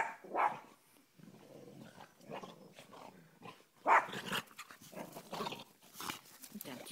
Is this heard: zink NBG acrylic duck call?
no